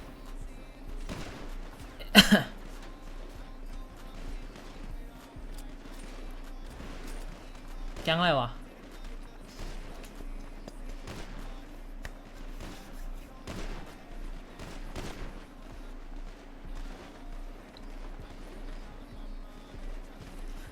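Gunfire in the game GTA: a loud sharp burst near the start and another burst a few seconds later, set over steady game ambience with faint scattered pops, while someone talks throughout.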